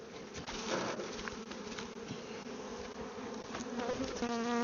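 A dense, steady buzzing of many honey bees around a hive being split, close and continuous, with individual insects droning past.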